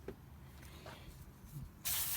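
A sudden, loud burst of aerosol degreaser sprayed onto a BMW Z3 engine near the end, hissing steadily after a stretch of quieter background noise.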